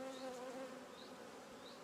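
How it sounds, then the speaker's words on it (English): Honey bees buzz steadily as they are brushed off queen cells, a continuous close hum with faint rising tones and no voices. "I'm just going to brush these bees off gently."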